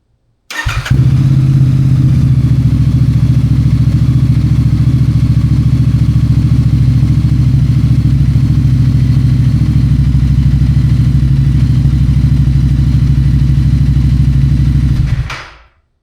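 A Royal Enfield Bear 650 motorcycle fitted with a Rhino exhaust idles steadily from a few feet behind and to the side, a loud, even low rumble that holds for about fifteen seconds before cutting off.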